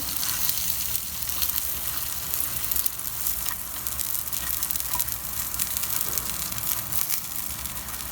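Naan piyazi, an onion-stuffed naan with cheese, fries on a hot pan with ghee, giving a steady, close, even sizzle that runs unbroken throughout with no voices.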